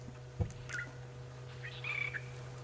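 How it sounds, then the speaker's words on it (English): A few short, sharp drongo calls ring out in the distance against a steady low hum, with a brief thump near the start, during a safari game drive. "hear the drongos calling"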